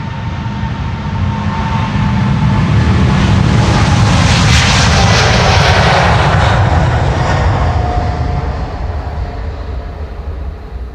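A jet departs northbound from the Polderbaan runway 36L at Schiphol, its engines a loud, broad roar that builds as it nears, peaks overhead with a sweeping whine, then slowly fades.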